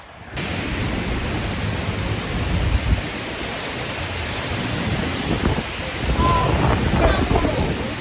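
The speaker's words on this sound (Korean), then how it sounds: "바람이 얼마나 많이 부냐면요" Strong wind roaring steadily across a microphone outdoors in Busan, a dense, loud rush that swells and gusts throughout, with faint voices buried underneath.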